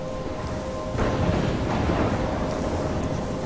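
A thunderstorm with a continuous wash of heavy rain and a low rumble of thunder swelling midway, steady and enveloping with no voices.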